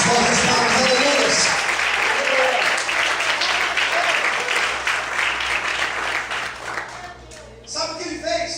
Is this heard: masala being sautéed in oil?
no